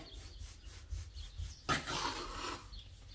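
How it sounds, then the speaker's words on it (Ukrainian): A knife cuts through stiff homemade Transcarpathian torhonya egg dough, dividing it into pieces. One close, rasping scrape lasts about a second, preceded and followed by soft rubbing and a low background rumble. "Дивіться, покажу вам, як це воно ріже."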